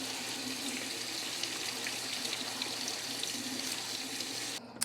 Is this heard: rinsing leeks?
yes